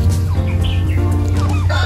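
Native chickens clucking close by in a farmyard, short repeated clucks and calls over a steady low hum, with no talking.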